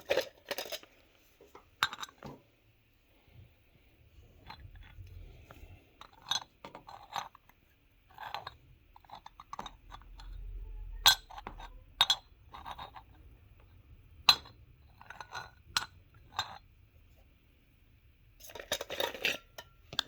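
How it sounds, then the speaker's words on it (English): Small metallic clinks and jingles come in scattered bursts, like coins being handled and dropped, with quiet gaps between them. "that's what money sounds like"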